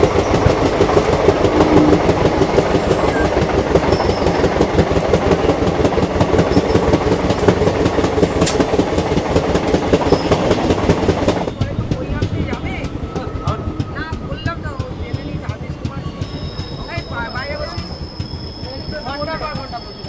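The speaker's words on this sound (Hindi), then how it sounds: "इसी लोकल ट्रेन को हम लोग ओवरटेक कर रहे हैं अभी।" Mithila Express train running and overtaking a local train, a loud steady rattle and rhythmic clickety-clack of wheels on rails that eases slightly midway, with someone talking throughout.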